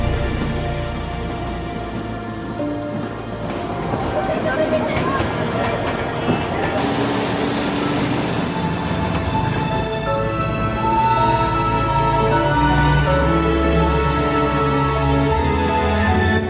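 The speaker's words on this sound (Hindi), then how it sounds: "इस लूप में घूमकर टॉय ट्रेन इतनी ज़्यादा हाइट पर भी आराम से चढ़ जाती है" The Darjeeling toy train runs around the Batasia Loop, a loud, steady rumble of rail cars and engine that rises and holds through the whole stretch, with a voice speaking over it.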